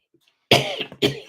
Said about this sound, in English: Sorry, sometimes I got a little dry cough.